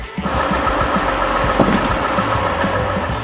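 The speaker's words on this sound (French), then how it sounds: "Le moteur V8 assure la puissance nécessaire pour s'extraire des chemins boueux." A logging truck's V8 engine on a 6x4 chassis runs steadily and fairly loud, a dense low rumble holding throughout the short stretch with no talk.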